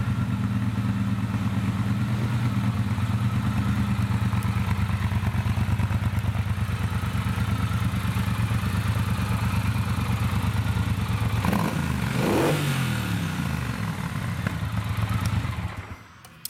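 A Triumph Bonneville Bobber 1200cc motorcycle with its stock exhaust idles steadily, a loud low throbbing rumble held for a long stretch, briefly rising in a quick rev near the end before fading out.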